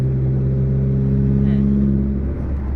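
A tuned 1.9 diesel car with a remap pulls under throttle, a steady low engine drone heard from inside the cabin, loud and continuous with slight rise in pitch.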